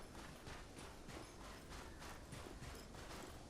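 Rhythmic clip-clop of a trotting horse in the Cowboy Life Simulator video game, even repeating hoof beats at a steady pace, quiet overall and without talk.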